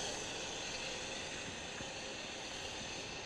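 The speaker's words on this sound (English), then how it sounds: "And the difference between the two is the combustion noise." Ignited flame roaring inside a simple tube, a faint, steady broadband hiss-like roar that holds without change throughout.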